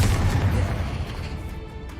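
Confringo blasting curse from Hogwarts Legacy detonates in a heavy, deep boom that rolls out and slowly fades.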